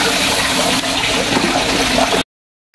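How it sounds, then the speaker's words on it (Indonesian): Tap water pours steadily into a garden fish pond outside a house, a continuous loud splashing rush that fills the clip before cutting off abruptly near the end. "kita tambahkan airnya yang sudah mulai berkurang"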